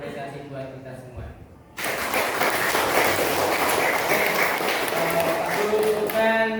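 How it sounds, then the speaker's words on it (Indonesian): Classroom applause from a group of students at the close of a lesson, a sustained dense burst of clapping that starts abruptly and continues steadily, with voices mixed in. "mari kita tepuk tangan dan apresiasi buat kita semua"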